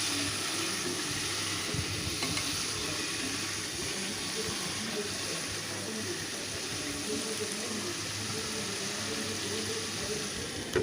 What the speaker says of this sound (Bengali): আমি এখন ভেজে রাখা আলুগুলো মশলা কষানোর মধ্যে দিয়ে দিচ্ছি, দিয়ে আলুর সাথে মশলাটা একসাথে কষাতে থাকবো।